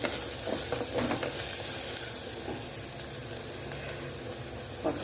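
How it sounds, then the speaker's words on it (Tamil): Onions sautéing with garlic in a pan make a soft, steady sizzle, broken by occasional stirring scrapes and small clinks, close and fairly quiet with no talking. "நல்லா வதக்கி போட்டுக்கோங்க இதோட வெங்காயம்"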